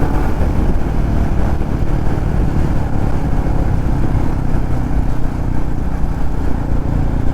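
A Royal Enfield motorcycle rides at speed on a road trip from Tamil Nadu to Kerala, its engine drone blending with loud, continuous wind buffeting throughout.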